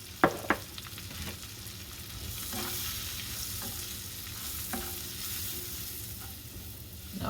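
Cooked onions frying in a pan as flour is added for onion gravy, a continuous low sizzle broken by a few sharp scraping stirs at the start and occasional utensil taps, close and quiet.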